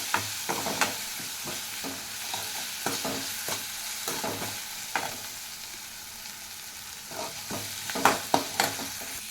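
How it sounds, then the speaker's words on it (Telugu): Ginger garlic paste fries in oil with salt in a pan for boti fry, under a continuous soft sizzle. A spoon scrapes and stirs in repeated irregular strokes, close up and with no voices. "ఈ అల్లం వెల్లుల్లి పేస్ట్ అనేది బాగా వేగేంత వరకు మనం వేయించుకోవాలండి."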